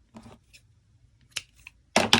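Crochet yarn snipped with scissors, a few soft close cuts separated by quiet gaps, ending in a louder double snip.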